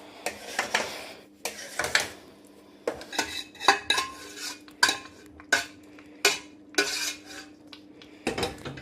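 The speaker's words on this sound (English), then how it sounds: "I've added the caramelised onions into this dish now, and I'm going to stir them in." A spoon clinks and scrapes against a pot as caramelised onions are stirred into a saag, with irregular clattering strokes close by and no talking.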